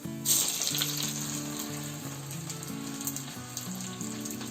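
Mustard seeds and a little onion frying in hot oil in a pan, a steady close sizzle with faint crackles and a brief louder burst near the start, no talk, with a soft melodic tone running underneath.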